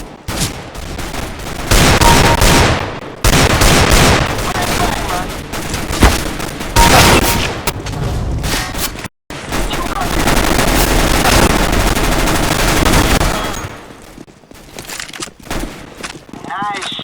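Rapid automatic gunfire and overlapping bursts in Counter-Strike: Global Offensive on the St. Marc demolition map, loud and dense for long stretches, broken by a brief gap, then trailing off toward the end.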